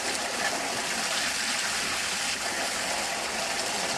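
Clean stream water flowing steadily at a campsite, a constant broadband rush with no breaks, close and fairly loud throughout.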